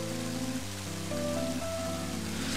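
Steady hiss of rain falls in the video game Mother 3, a soft, constant patter running beneath a chiptune melody of stepped, sustained tones.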